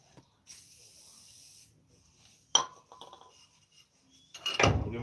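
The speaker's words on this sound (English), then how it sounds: "Just put some WD-40 in there." WD-40 lubricant is sprayed during bearing, upper arm and axle work on a 2014 Dodge Ram 1500, with a soft hissing burst, then sharper clatters and a louder spray near the end.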